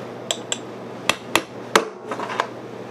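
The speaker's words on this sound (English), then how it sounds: "I want the nail punch to have somewhere to go after I hit it with the hammer" A hammer strikes a nail punch against glass in a series of sharp, close metallic taps, about seven distinct hits spaced irregularly, the last few lighter and clustered, with no voices.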